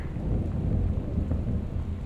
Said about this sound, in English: Is that just thunder?